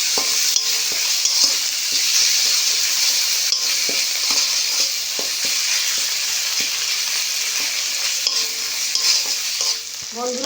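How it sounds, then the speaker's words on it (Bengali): Ground cumin and coriander paste fries in a pan with other spices, making a loud, continuous, close-up sizzle broken by regular stirring scrapes and no voices. "এবার আমি সব মশলাগুলো বেশ ভালো করে কষে নেব।"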